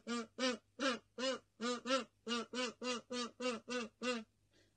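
A kazoo imitating a bird call, a run of about thirteen short, buzzy quack-like honks in a steady even rhythm, close and clear against silence.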